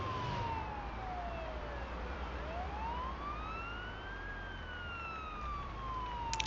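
An ambulance siren in the Ambulance Life paramedic simulator video game wails in slow rising and falling sweeps, steady and continuous against a low road rumble, with no talking.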